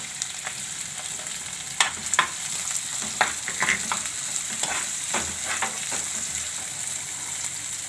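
Onions frying for Manchurian in a hot pan give a steady, close, loud sizzle, broken by scattered clatters and scrapes as they are stirred. No one talks.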